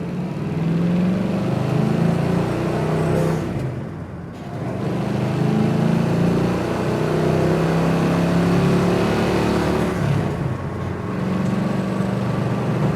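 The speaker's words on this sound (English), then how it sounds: "Man, do these cars accelerate." A vintage Ford Mustang's 289 V8 engine revs and pulls hard through several rising accelerations, each ending with a brief dip as gears shift, loud and close.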